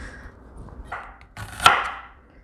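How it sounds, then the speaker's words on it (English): A knife slices through a large onion, halving it for a Filipino fish escabeche; a couple of close, crisp cutting sounds, the main one sharp and brief, with no talking. "So I'm going to just cut it in half."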